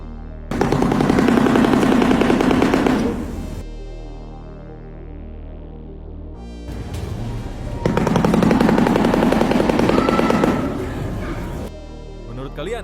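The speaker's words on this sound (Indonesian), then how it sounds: "Saat dua bagian paruhnya dibenturkan dengan cepat, bunyinya terdengar seperti rentetan tembakan senapan senjata." A large bird claps its beak rapidly, making loud rattling bursts like machine-gun fire. There are two long volleys with a quieter stretch between them.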